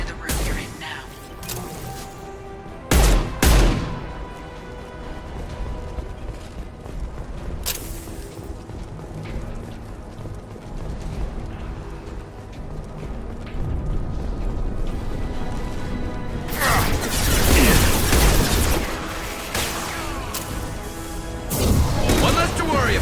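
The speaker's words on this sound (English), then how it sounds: "Firing a high-impact shot. Taking heavy fire." Gunfire, impacts and explosions from the Mass Effect video game, a continuous busy battle mix with sharp bursts and a louder crash near the end, with in-game voices talking over the combat.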